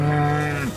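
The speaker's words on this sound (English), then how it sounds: "This mom cow was loudly calling for help because her calf fell into a hole." A mother cow, her calf fallen into a hole, lets out one loud, sustained moo that sags downward in pitch at the end.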